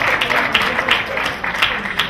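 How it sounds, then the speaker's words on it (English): Guests at a fundraising auction applaud, a steady patter of many hands clapping that runs under a host talking over a sound system. "Big round of applause to this wonderful table that have donated huge amount of money"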